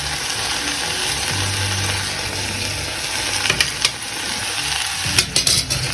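Chili powder, garam masala and salt are stirred into vegetable biryani in a sizzling pan. A constant frying hiss runs close by, with a few sharp scraping clicks of the stirring near the end.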